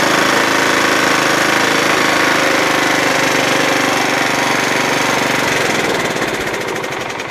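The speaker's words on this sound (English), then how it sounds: "engine seems to run great" A Kohler Command 16HP engine runs steadily on a Scotts by John Deere lawn tractor, a loud, continuous mechanical drone with a rough knocking texture close by, easing slightly toward the end.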